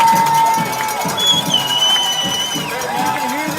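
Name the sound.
rowdy high school football crowd on third down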